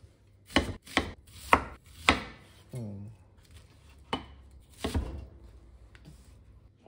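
Spring onions are sliced with a knife on a cutting board, five or six crisp close chops spaced irregularly, with a faint ringing scrape in between and otherwise quiet surroundings, no voices.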